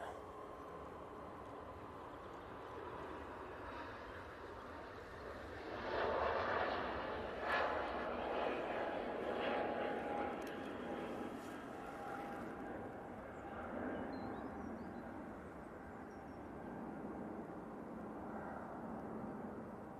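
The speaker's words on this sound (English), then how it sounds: "About to get touchdown. Ryanair. And this one's coming from Rome. It's 737 MAX 8." Ryanair Boeing 737 MAX 8 landing at Manchester Airport, a faint distant jet whine and rumble that swells briefly mid-way, with a voice talking over it.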